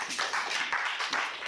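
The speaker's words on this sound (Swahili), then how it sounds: "Pigia Roho Yesu makofi." A church congregation claps together in a fast, steady, fairly loud patter of many hands that fills the room for a brief burst.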